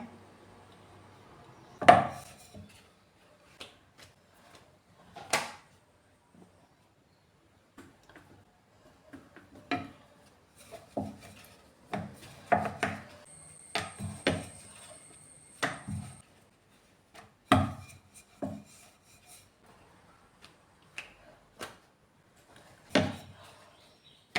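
Poori dough is rolled out with a wooden rolling pin, giving sparse, faint wooden taps and knocks at an irregular pace in a quiet kitchen, with no talking.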